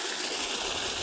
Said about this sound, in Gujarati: અહીંયા પાણી આવે જો